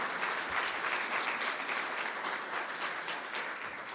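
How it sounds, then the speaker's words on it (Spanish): A church congregation claps together in a dense, steady wash of applause that fills the room, holding at an even level throughout with no voices standing out. "¿Cuántos dan una ofrenda de palmas a Dios?"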